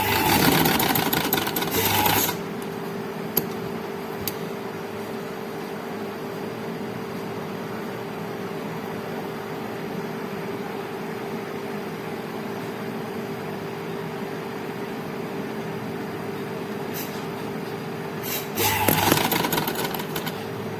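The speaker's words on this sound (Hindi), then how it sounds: "ये अब सिलाई लगानी शुरू करते हैं।" A sewing machine stitching the seam of a frock bodice, a steady close mechanical whir running continuously, with louder handling noises at the start and end and no talk.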